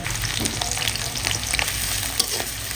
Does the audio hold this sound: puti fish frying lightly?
yes